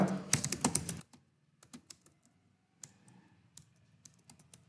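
Keys clatter on a computer keyboard as HTML code is typed: a quick, dense burst for about a second, then scattered single clicks and short runs, close and fairly quiet.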